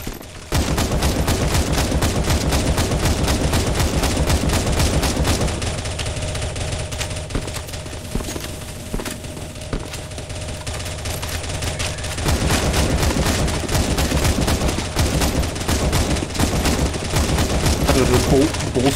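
Continuous gunfire from a crowd of players shooting at a boss in the CS:GO Zombie Escape map ze_cyberpunk_x_a07, a dense, loud barrage of rapid shots running almost without break, with game music and effects layered underneath.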